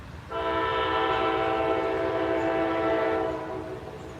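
A loud, sustained train horn sounds a single long blast over the low rumble of a passing train near Knoxville West End. No one speaks.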